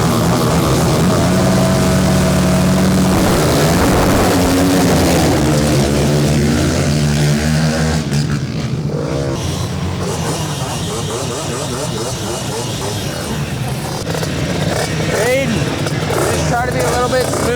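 ATV racing quad engines rev and roar together at the start of a race, rising and falling in pitch in a loud, dense engine din, with voices likely talking over parts of it.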